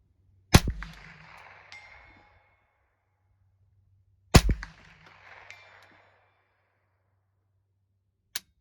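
Two sharp gunshots from an H&K 416 D .22LR carbine, a few seconds apart, each followed by a short echoing ring-out outdoors, then a faint click near the end.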